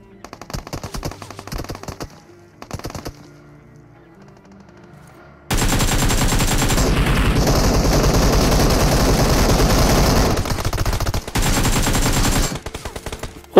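Automatic gunfire in the mobile battle royale game PUBG Mobile, loud rapid bursts: a few short volleys first, then a long sustained stream of fire with brief gaps, close and dominant.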